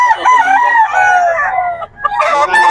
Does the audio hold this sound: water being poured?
no